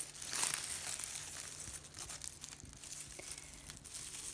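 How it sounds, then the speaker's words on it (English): Dead leaves are pulled off a calathea houseplant, giving soft, close crinkling and papery tearing sounds, a bit louder at the start and then quieter, rustling on and off. "So I'm just gonna kind of take out all of these leaves, all of these dead leaves."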